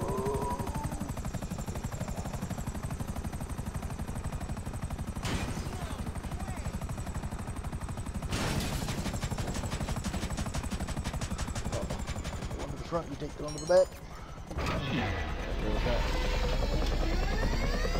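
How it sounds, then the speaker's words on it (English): A video game helicopter drones steadily with a rapid rotor chop, joined by bursts of gunfire and sharp bangs, while players talk over the noise. "What the hell is that noise? That's the helicopter."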